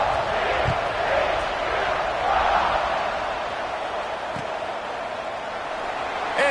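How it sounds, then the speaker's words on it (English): A football stadium crowd buzzing after a score, a dense continuous roar of many voices at a steady level, broad and distant-sounding with no single voice standing out. "this crowd is buzzing after that last score"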